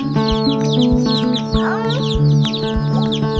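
Baby chicks cheeping in a box in a barn, a dense chorus of high, rapid peeps close by, with a steady hum underneath.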